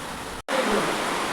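Rainwater leaking through a damaged tin-sheet roof into a house during heavy rain, a steady broadband pouring hiss with a brief near-silent gap, close and fairly loud.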